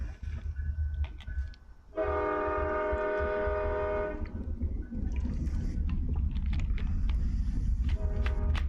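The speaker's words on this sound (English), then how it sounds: "And there's another train." A train horn sounds in a long, loud, steady harmonic blast of about two seconds, then stops, over the continuous low rumble of a passing train; brief scattered clicks and knocks come before and after.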